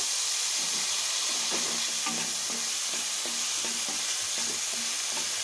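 Moong dal frying in hot oil with dry red chilli, bay leaf and whole cumin, a steady close sizzle and hiss with repeated scraping stirs of a spatula in the pan.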